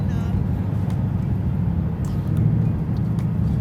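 Cabin drone of a 2019 Ford Mustang GT Premium with its 10-speed automatic on back roads, a steady low engine and road rumble that stays loud throughout, with no distinct downshift standing out.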